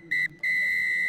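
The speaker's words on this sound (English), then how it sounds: "And there is the full-time whistle." At a rugby match between the Glendale Raptors and Utah Warriors, the referee blows the full-time whistle: a short shrill blast, a brief gap, then a long sustained blast, loud and piercing over faint crowd noise.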